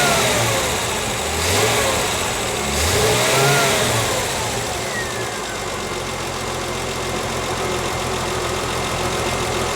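A TVR 2500M engine idles and then revs with throttle, rising and falling a few times in a steady, loud mid-pitched drone, close up with no talk.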